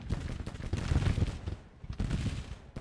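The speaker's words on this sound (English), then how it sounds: "Try to get in some sweet shots here" Musket volleys in Grand Tactician: The Civil War, a dense rattling crackle of massed gunfire with overlapping shots in two bursts, moderately distant and steady.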